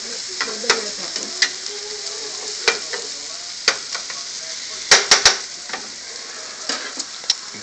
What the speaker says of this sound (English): She's sautéing. Using a garlic, onion, a little bit of pepper.